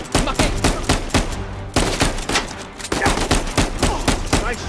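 Rapid gunfire in the Uncharted 4 video game: loud, repeated bursts of shots crackle in quick succession with brief gaps, close and dominant throughout.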